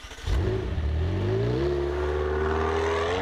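A 2018 McLaren 720S engine fires back up from automatic start-stop: a brief starter clatter, then a sudden bark into a steady, rising idle hum close by.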